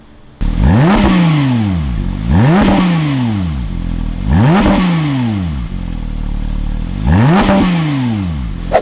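A Porsche GT3 RS on its stock exhaust revs sharply four times while its loudness is measured. Each loud, close blip climbs to a high howl and falls away, separated by a rough idle.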